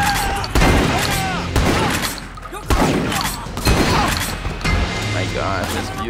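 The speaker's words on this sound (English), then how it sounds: "Time for me to use my new shotgun." Shotgun blasts in the video game Triad Wars: several loud, booming shots land roughly a second apart, each a sharp crack that rolls into a noisy tail over busy game sound.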